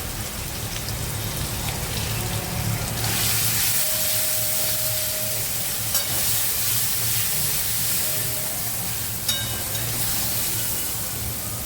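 Potatoes fry in a pan with turmeric and salt, giving a loud, steady sizzle and hiss throughout, with occasional sharper pops.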